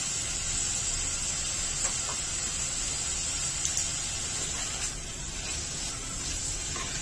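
Cauliflower and peas sauté in a pan with a soft, continuous sizzling hiss, fairly faint and close, with a few light scraping clicks and no talking.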